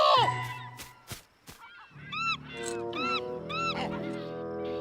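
Seagulls in an animated cartoon give a run of shrill, rising-and-falling calls, repeated in quick succession and fairly close, building into an overlapping chorus.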